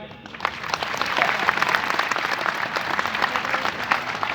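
A gathering at a Hindu religious katha applauds the accompanying musicians, with dense, continuous clapping from a crowd throughout.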